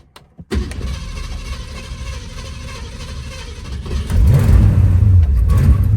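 An old truck called Old Blue cranks over and catches, its engine rising into a loud rough rev that holds steady near the microphone.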